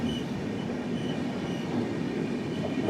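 Passenger train on the Kerala Sampark Kranti Express route rolling slowly along the rails, a steady continuous rumble of wheels and carriage noise, close and even throughout with no talk.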